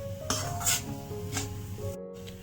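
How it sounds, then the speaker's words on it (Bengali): Mashed potato is mixed with spices for Bengali alur chop, with a few soft scraping, rubbing strokes against the pan over a low background hum. "আলুর সাথে মশলাটাকে ভালোভাবে এরকমভাবে মিক্স করে নিতে হবে।"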